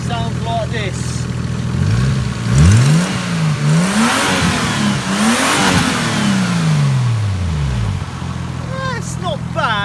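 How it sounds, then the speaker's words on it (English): A 3-litre turbocharged car engine revs up and down several times from a rough idle, rising and falling in pitch in repeated sweeps, loud and close, then dropping back to idle. "is a 3 litre turbo, right? At the moment, she sounds like this."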